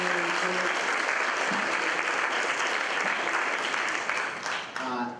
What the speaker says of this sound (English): can I ask you to give these pupils, these young people, no longer pupils, these old Wellingtonians, a round of applause